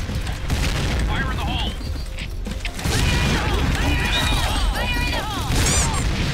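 Game explosions and gunfire crash through a round of Point Blank, an online shooter in its one-shot mode, with loud booms and mechanical clatter amid chirpy effects, while a player talks over the action.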